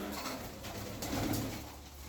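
Doves cooing softly at a distance, low muffled coos over a steady background hiss.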